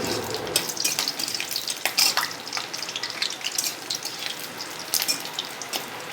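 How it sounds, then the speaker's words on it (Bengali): Bat papad frying in hot oil in a wok: dense crackling sizzle with sharp popping spikes scattered throughout, loud and close, continuous with no voices. "এগুলোকে আমি ভেজে নিচ্ছি।"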